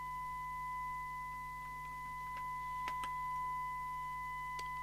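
A steady, faint sine-wave test tone plays through a Telecomm TC9000 UK CB27/81 mobile CB radio under repair for dry joints. It holds unbroken over low hum, with a few tiny ticks.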